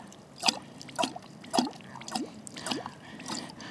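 Water drips from a hand-pumped water purifier into a container while making coffee: six or seven distinct liquid plinks, evenly spaced about half a second apart, close and fairly quiet over a soft background hiss.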